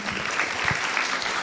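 Audience applause at a spiritist course class, steady dense clapping from a crowd filling the whole moment at an even level.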